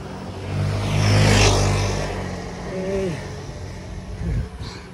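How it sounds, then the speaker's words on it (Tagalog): A car passes on a quiet road, its rumble swelling to a broad whoosh as it goes by close, then fading, with brief faint voices afterward. "Halos puro sasakyan lang dumadaan. Katulad yun nasa likod ko."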